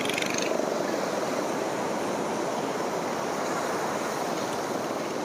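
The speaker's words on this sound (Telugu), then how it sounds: "ఇదేనండి మన చీరాల బీచ్" Sea waves at Chirala beach near Vodarevu roll in a steady, broad surf wash under gusty wind on the microphone, with no voices heard.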